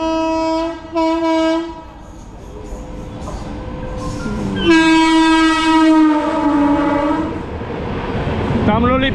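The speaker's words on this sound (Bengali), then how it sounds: "তাম্রলিপ্ত এক্সপ্রেস যাচ্ছে" Tamralipta Express train passing through Nandakumar station, with two short horn blasts early on, then a long, loud sustained horn as the train rolls by close, amid rumbling wheels and rail noise.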